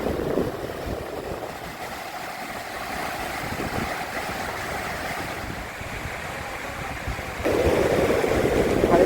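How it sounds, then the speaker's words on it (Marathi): Sea waves breaking on a beach in the evening, a steady wash of surf with wind noise, swelling louder near the end. "आम्ही पुन्हा आता समुद्रावरती आलो आहोत"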